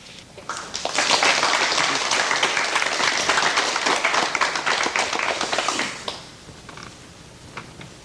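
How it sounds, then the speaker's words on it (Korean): A studio audience at a Korean talk show gives warm, dense applause to welcome an elderly guest, swelling quickly, holding steady for about five seconds, then thinning to a few scattered claps. "여러분 박수로 맞이해 주시면 대단히 고맙겠습니다"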